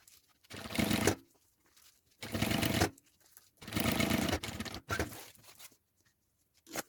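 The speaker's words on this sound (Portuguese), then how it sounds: "esse pesponto tem que ter meio pé de máquina, ponto número 4" A sewing machine topstitches a small fabric mini backpack in several short bursts of rapid mechanical whirring, each lasting about half a second to a second, separated by quiet pauses.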